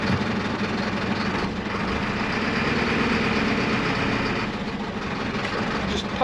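A Mercedes Vario truck's diesel engine idles in a steady, even rumble while the clutch is pumped, a continuous moderately loud drone with faint mechanical clicks and no talking.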